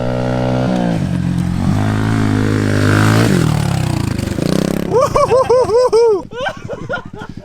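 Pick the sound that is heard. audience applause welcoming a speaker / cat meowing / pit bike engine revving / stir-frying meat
pit bike engine revving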